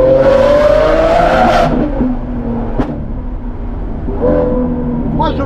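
A loud Lamborghini with a straight-through exhaust revs high and drops away, followed by a sharp flame-spitting pop and another rising rev nearby.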